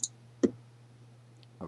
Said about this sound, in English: I'm just clicking on the wrong.